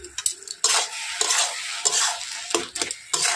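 Ground mustard paste is stirred into eggplant frying in a pan, giving short scraping stirs over a crackling sizzle for a few seconds.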